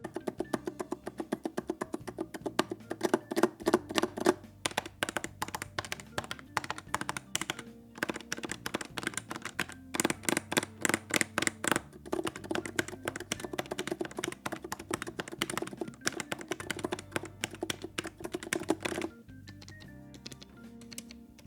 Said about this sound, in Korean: 버튼은 아무 문제도 없지만 SDB202는 좀 시끄러운 편이에요